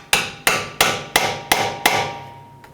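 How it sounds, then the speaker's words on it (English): Six sharp metallic hammer blows drive a pry bar between the ball joint and steering knuckle on a 2010-16 Buick LaCrosse front suspension, struck at a steady rhythm about a third of a second apart, each ringing briefly, loud and close, with a faint tap at the end. "just take a pry bar or a screwdriver and just hammer it in right here, just to separate it a little bit"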